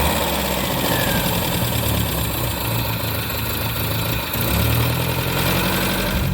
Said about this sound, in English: And now we've started a 1957 Nash Metropolitan.